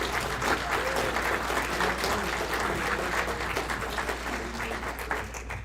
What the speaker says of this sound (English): Let's have a nice round of applause for Dr. Stoops.